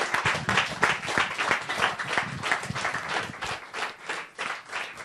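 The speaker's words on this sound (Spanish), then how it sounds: "Vamos a darle un aplauso al Señor, claro que sí." Congregation applauding in a Spanish-language church discipleship class, lively uneven clapping with pulsing swells, fairly close and loud, fading a little at the end.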